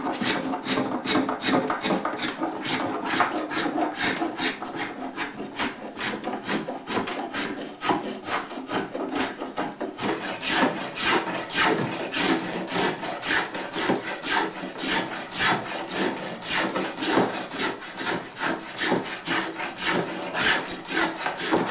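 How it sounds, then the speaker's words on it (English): Fine sandpaper rubs back and forth over a very long carved wooden lovespoon after a first coat of sealer, making a continuous close-up scratching rasp in quick irregular strokes, with no talking. "I'm just rubbing down now a bit of fine sandpaper, and rub it all down in the little fiddly bits"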